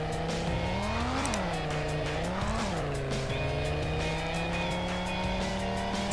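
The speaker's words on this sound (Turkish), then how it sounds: "Şu an düz arazide drift takıyor" A car drifting on flat open ground in Garry's Mod, its tires squealing in a loud, sustained wail that bends in pitch as the slide changes, along with steady engine drone and no talking.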